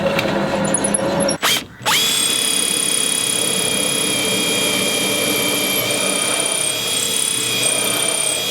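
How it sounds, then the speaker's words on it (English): A power drill bores bolt holes in the centre yoke of a cedar strip canoe, whining loudly and steadily up close, with a brief stop and restart near the beginning. "I can drill them now."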